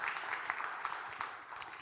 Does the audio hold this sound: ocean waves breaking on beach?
no